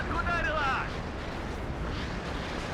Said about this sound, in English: we got artillery right on top of that command